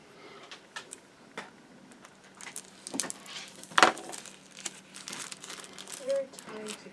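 Plastic bags from a Tamiya 1/72 A6M2b Zero model kit crinkle and rustle as they are cut open, in scattered irregular bursts with one sharper snip, close and fairly quiet.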